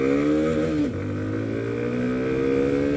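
A Hero MotoCorp Xtreme 125R motorcycle engine is revved hard, a loud close droning tone that dips briefly and then climbs steadily in pitch as the throttle opens.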